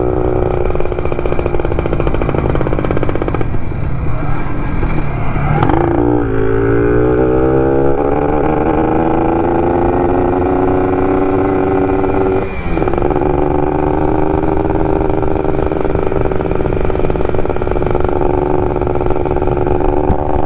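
Yamaha 125ZR motorcycle engine running on a dyno test, loud and close, holding a steady buzzing drone with a couple of rising rev sweeps and brief dips, continuous throughout without any talk.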